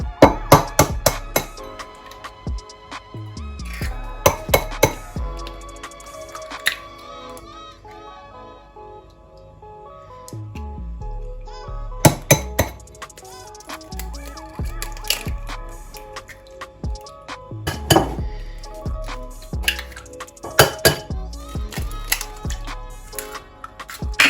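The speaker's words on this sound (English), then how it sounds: "First, I'm going to separate my 3 eggs." Three eggs are cracked on a bowl's rim and separated, giving a series of sharp, close taps and knocks with irregular pauses between them, mostly alone with little talk.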